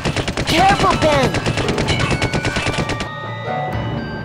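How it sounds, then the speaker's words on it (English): Rapid machine gun fire in the Full Throttle video game, a dense, loud, close stream of shots for about three seconds that stops abruptly, with a voice shouting over the bursts. "these bullets won't get me"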